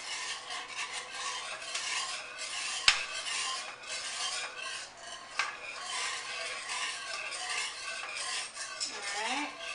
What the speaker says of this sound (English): whisking this up, make sure you don't have any lumps in here